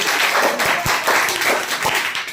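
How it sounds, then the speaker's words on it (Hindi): A classroom of students claps during a Class 10 science practical on light reflection. The applause is loud, brisk and scattered and lasts a couple of seconds, with a few sharper individual claps standing out. "तालियां बजाओ सब इसके लिए।"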